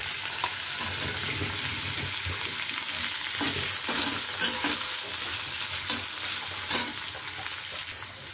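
Potato and cauliflower fry in a pan with a continuous close sizzle, while a spoon stirs and scrapes through them in repeated clicks and knocks.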